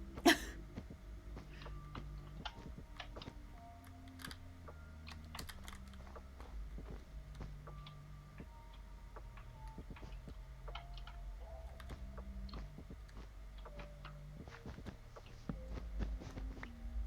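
A cat lying on a computer keyboard, pressing keys: scattered irregular clicks and taps throughout, faint and close, over a soft background with light tonal game music.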